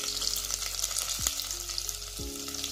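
Small onions frying in a pan of oil for mutton curry: a steady, close sizzle with light stirring scrapes throughout, and no talking.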